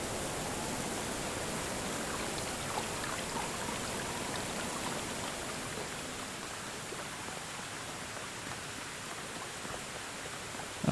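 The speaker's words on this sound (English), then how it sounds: "It's raining." Steady rain falling over open flat land in the medieval survival game Medieval Dynasty, a dense even hiss of drops continuing at moderate level throughout, with no voices.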